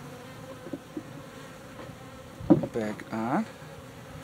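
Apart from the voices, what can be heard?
bees buzzing at a beehive during feeding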